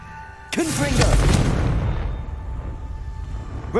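Confringo fire spell blasts in Hogwarts Legacy: a sharp, loud burst followed by a crackling, rumbling explosion that decays over a few seconds, with a faint voice under the blast.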